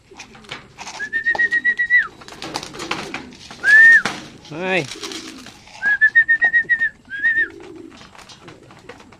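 Soft, throaty pigeon coos repeat in short rounded bursts from racing pigeons in winter training, mixed with whistled bird calls and a brief spoken exclamation nearby.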